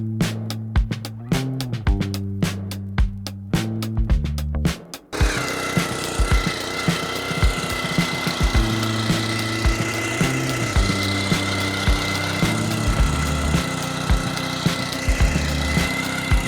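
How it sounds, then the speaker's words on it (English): A garden tiller churns topsoil and drainage rock in a raised flower bed, its engine starting up with sputtering pulses before settling into a loud, steady rumble with repeated knocking thuds from the tines. "I'm going to till it all in there."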